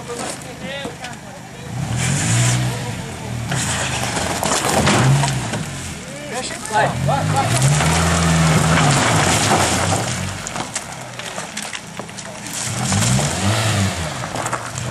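A car engine revs repeatedly in surging bursts as the vehicle is pulled out, loud and close, with people talking and shouting over it.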